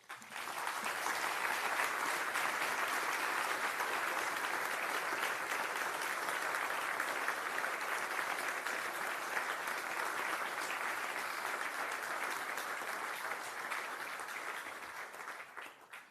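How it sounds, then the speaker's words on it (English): A big round of applause from a conference audience at an opening address, a full, dense wash of clapping that holds steady for about fifteen seconds and then fades. "I would propose a big round of applause."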